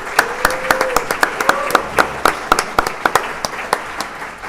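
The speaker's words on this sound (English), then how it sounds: "Could we please give them a final round of applause?" Audience at the Oregon Summit breakfast and legislative update gives a final round of applause for sponsors: distinct, fairly close hand claps in an uneven rhythm that thin out toward the end, with a faint tonal murmur underneath.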